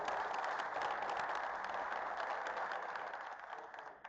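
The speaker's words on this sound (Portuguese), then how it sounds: "Palmas para o Nivaldo." An audience at a workplace safety lecture claps together, a fairly quiet, even patter of hands that holds steady and then thins out toward the end.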